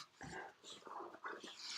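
A dog whimpers and whines in short, high, breathy bursts close by, faint and quick, with some soft rustling in the room.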